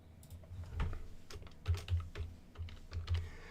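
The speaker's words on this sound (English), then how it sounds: "So while I'm typing this in" Someone types on a computer keyboard, an irregular run of close, crisp key clicks and thumps with short pauses and no talking.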